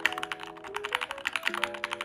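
Rapid typing on a custom-built mechanical keyboard from a Fortnite player's collection, a dense, even patter of crisp keystrokes close up, fairly quiet and without speech, with a faint tonal hum underneath.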